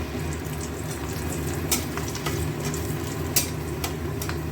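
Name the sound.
small potato pieces frying in a pan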